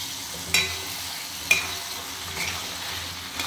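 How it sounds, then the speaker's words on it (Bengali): Fried chicken pakoras being stirred into gravy in a pan, with two sharp scrapes of a utensil against the pan over a faint, quiet sizzle. "দেওয়ার পর এখন এগুলোকে ভালো করে গ্রেভির সাথে মিক্স করব।"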